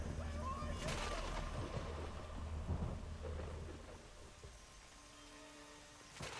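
Thunderstorm in the game Kena: Bridge of Spirits, with a rolling thunder rumble over steady rain, the loudest crack at the start and fading later, while voices talk over it.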